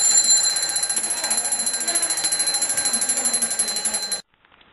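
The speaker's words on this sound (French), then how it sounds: "Le réveil sonne." An alarm clock rings at six in the morning on a countryside farm, a bright rapid repeating electronic beep pattern sounding steadily for about four seconds before cutting off abruptly into silence.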